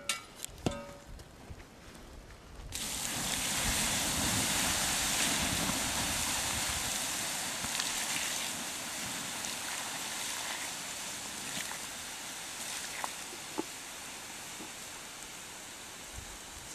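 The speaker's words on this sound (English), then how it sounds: "So let it steam for a little bit" Water poured onto a campfire hisses and steams after a few faint clunks, a broad, steady rushing hiss that holds loud and continuous before slowly easing, with scattered small crackles and pops.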